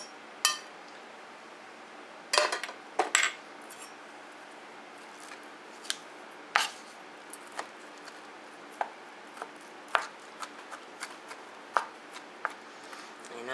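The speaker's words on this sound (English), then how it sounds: "I am going to take this shrimp and cut it up." A knife cuts up cooked shrimp on a board, giving a string of sharp, dry chops and taps at uneven intervals, close and fairly quiet, with no talking.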